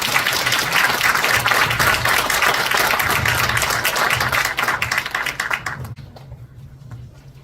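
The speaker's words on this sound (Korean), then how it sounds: "큰 박수로 맞이해 주시기 바랍니다." Audience at an education forum applauding to welcome a speaker: sustained, dense clapping from a large crowd for about six seconds, then fading out quickly into near quiet.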